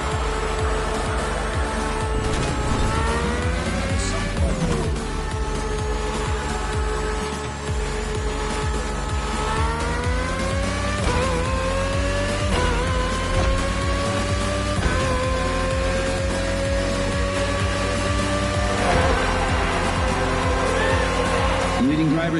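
Race cars lapping in the video game The Crew Motorfest, engines droning steadily with rising and falling pitch as they shift, loud and continuous over roughly twenty seconds, with occasional tire noise and a race commentator's voice layered on top.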